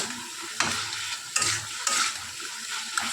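Chicken balls are stirred in a cooking pan over a soft, continuous sizzle, with a spoon scraping the pan at intervals in a few distinct sweeps.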